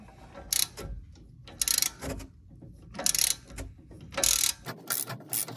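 Ratchet wrench turning a stud on the rear brakes of a 2015 Silverado, heard as close, repeated bursts of rapid ratcheting clicks separated by short pauses.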